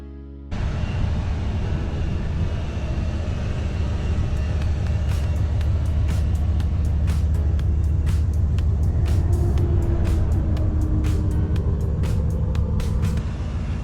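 A car drives through the Oregon woods, a steady, loud road rumble and engine drone heard from inside the cabin, with faint ticking clicks scattered over the constant noise.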